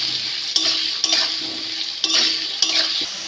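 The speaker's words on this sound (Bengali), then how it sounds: "ভালো করে ভেজে নেবো আলুটা" Potato pieces fry in hot oil with a constant close sizzle, while a spatula scrapes and knocks against the pan several times at uneven intervals.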